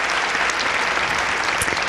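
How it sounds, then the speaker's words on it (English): A large pageant audience claps in a steady wash of applause, continuous and moderately loud, with no voices standing out. "Yes, applause, applause."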